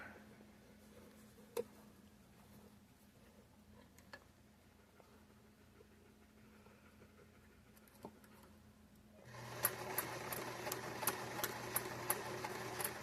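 A sewing machine stitches binding around a quilt corner, faint and quiet at first with a few isolated clicks, then running in a steady fast mechanical whir with rhythmic ticking for the last few seconds.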